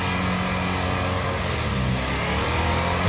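A semi truck engine revving in the racing game Wreckfest during a big-rig demolition event, a loud, continuous deep droning growl with steady harmonics, no voices.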